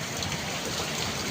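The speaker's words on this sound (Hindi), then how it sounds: "इतनी जोर बारिश हो रही है" Heavy rain pours down steadily in a village, a dense, even hiss with no pauses and no voices.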